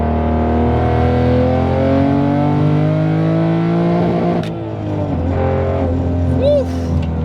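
A 900 hp manual Toyota Supra accelerates hard, its engine note climbing steadily through the gears as a loud, sustained roar with a brief dip at a shift, wind buffeting in the background.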